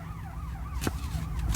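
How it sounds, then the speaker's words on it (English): A wailing siren sweeps up and down continuously at moderate distance, with a sharp broadband burst near the middle over low traffic rumble. "here comes the sirens again"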